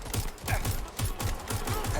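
Rapid, rhythmic bursts of gunfire in the Watch Dogs: Legion video game, a steady stream of punchy shots about every fifth of a second over a busy, noisy backdrop.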